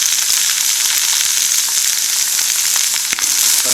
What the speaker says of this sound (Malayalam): നമുക്ക് ഇതിലേക്ക് ആദ്യം തന്നെ നമ്മുടെ പാവയ്ക്ക ഇട്ട് കൊടുക്കാം